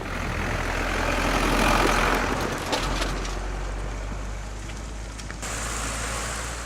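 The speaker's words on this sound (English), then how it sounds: "Tractors are slow, but very strong." A farm tractor engine runs steadily close by, a low continuous rumble with broadband noise that swells slightly and then settles, alone without voices.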